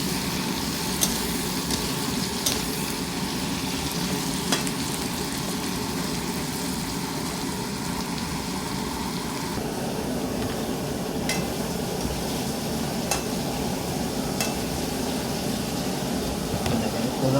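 Ingredients frying in a pan and being stirred, giving a steady sizzle with occasional clinks of a utensil against the pan, close and continuous.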